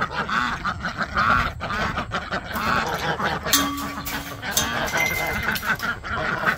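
Ducks quack in short, nasal bursts over outdoor background noise, with a few honks mixed in and a person talking in between.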